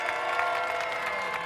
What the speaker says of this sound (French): Je sens que les gens ont envie d'applaudir, c'est le moment.